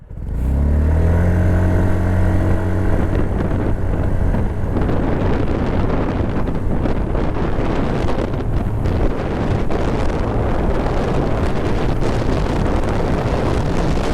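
A Yamaha Ray ZR 125cc scooter accelerates from about 10 km/h; a steady engine drone rises at first, then is largely swamped by loud, continuous wind rush across the microphone while riding.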